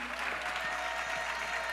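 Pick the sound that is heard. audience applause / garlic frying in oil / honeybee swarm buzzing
audience applause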